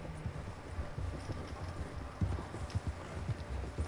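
Horse hoofbeats in the video game Red Dead Redemption 2, an uneven clip-clop of hooves on ground, close and moderately loud, over faint background ambience.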